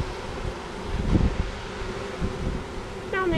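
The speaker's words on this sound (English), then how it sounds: "That's a solitary bee." A solitary bee near an apiary during a hive inspection, buzzing in a close, continuous drone with rustling and wind noise outdoors; a brief higher whine rises at the very end.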